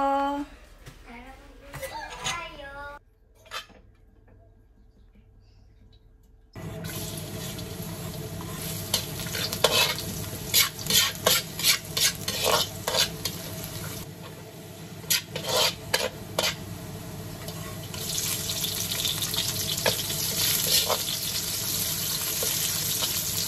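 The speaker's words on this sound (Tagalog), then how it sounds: "Kapag naigisa na natin mabuti yung bawang at sibuyas" Garlic and onions sauté in a pan for pancit miki guisado, a steady sizzle with bursts of sharp spatula scrapes and clanks, preceded by a short stretch of talk and a quiet pause.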